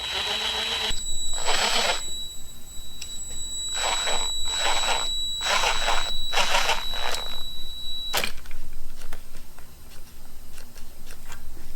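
An air-powered Martinbuilt valve spring compressor runs at 60 psi on a 3.7 or 4.7 Jeep, Dodge or Chrysler engine, letting out a series of short, bursting air hisses with brief pauses between them, followed by a sharp click.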